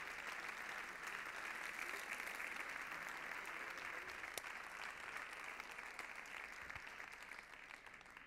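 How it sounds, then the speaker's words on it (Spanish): At a sports gala, the audience claps in a steady, even round of applause that carries on throughout. It sounds faint and somewhat distant. "Fuerte el aplauso para él."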